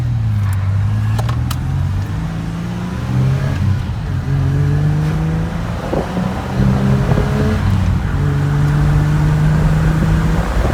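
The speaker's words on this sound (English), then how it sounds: "Downshift action." A BMW engine revs up and drops through downshifts on the move. Its tone rises and falls in a steady cycle under constant road and wind noise. The sound is loud and close, with no speech.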